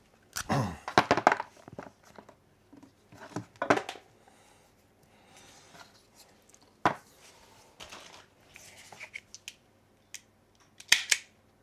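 Plug wires being snipped with a cutting tool, a few sharp, close clicks and thunks separated by quiet pauses and light handling noise.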